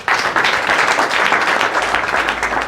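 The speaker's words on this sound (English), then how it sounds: "So I want you to give him a very strong hand clap." Audience at a school general assembly at Namasuba College of Commerce bursts into loud, dense applause, a steady wash of many hands clapping together for the full few seconds.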